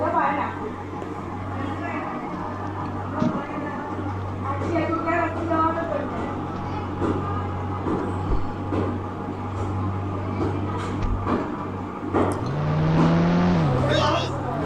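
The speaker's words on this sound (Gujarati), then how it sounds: "તો હવે આપણે એક સ્કોર્પિયો મંગાવી લઈએ આપણી વાઈટ. કેમ કરે એકને ગાડી લઈને ફરવા ના પડી, એટલે આપણે હવે આ ગાડી લઈને જઈશું આપણે ઘેર" A white Mahindra Scorpio SUV drives in the Indian Bike Driving 3D video game, its synthetic engine giving a steady droning hum that rises near the end, with a voice talking over it.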